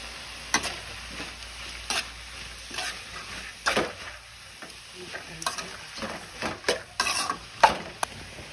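Amaranth leaves and peanuts fry in a pan with a soft continuous sizzle, while a spoon stirs them in irregular scraping strokes that come and go up close.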